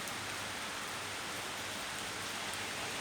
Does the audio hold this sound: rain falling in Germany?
yes